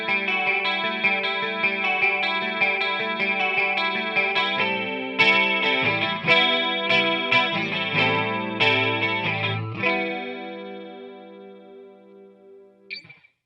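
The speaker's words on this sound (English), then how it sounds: "let's hear it with the Greenhouse Stonefish on." Electric guitar through a Greenhouse Stonefish chorus pedal with all knobs at noon: rich, shimmering chorused chords and melodic notes ringing out, then decaying into a fading sustain with a small click at the end, no talking.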